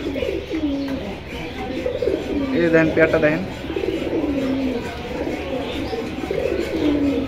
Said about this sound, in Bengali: মাশাআল্লাহ দর্শক, এটা হলো পাঙ্কি কবুতর।